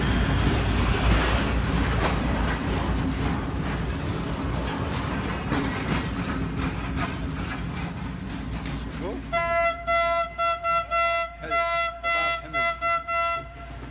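A train on a railway track running through a street market in Baghdad's Dora district, Iraq, passes amid busy crowd noise and chatter, then gives a series of loud, evenly spaced horn toots near the end.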